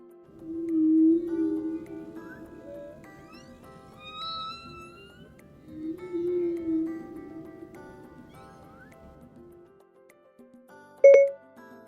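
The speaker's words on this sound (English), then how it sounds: "Here's a humpback whale." Humpback whale song: long tonal moans and rising, whooping sweeps in two main phrases with quieter calls between, followed by a short electronic chime at the end.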